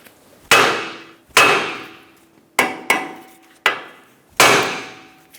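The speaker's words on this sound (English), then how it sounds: "Give the knuckle a bonk." A hammer strikes the steering knuckle of a 2012-2020 Chevrolet Sonic to free the outer tie rod. Six sharp, loud metallic blows come at uneven intervals, each ringing briefly before fading, close up with no talk.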